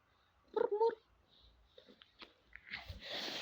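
A cat lets out a short, close cry during a snowy walk, followed by faint rustling and soft footsteps, then a swelling hiss of wind or movement toward the end.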